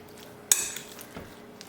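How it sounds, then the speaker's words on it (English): A utensil clinks against a bowl while turkey meatball mixture is stirred, one sharp knock followed by softer scraping taps, close and without talk. "keep stirring."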